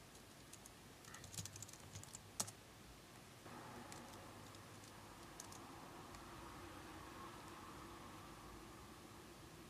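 Soft keystrokes on a computer keyboard typing a command into Terminal on a Mac, a brief scattered burst of taps early on, then a steady faint hiss of background noise for the rest.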